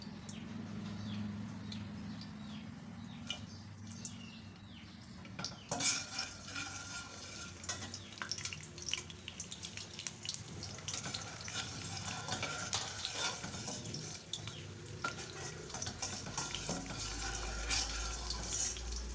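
Garlic sizzles and crackles steadily in oil in a pan, with stirring scrapes and clatter over the continuous frying hiss.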